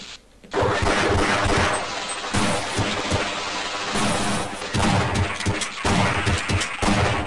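Rapid gunfire fills the Office Complex chapter of the video game Half-Life, with dense, loud bursts of shots and impacts that barely pause.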